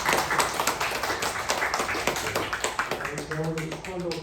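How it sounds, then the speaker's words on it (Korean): A church youth congregation at a Sunday service applauds to congratulate a newly ordained elder, a brisk ripple of clapping throughout with a voice speaking briefly over it near the end. "다들 박수로 축하해 주시기"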